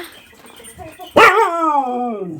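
A dog lets out one sharp, close bark that trails into a whining tone after a quiet moment.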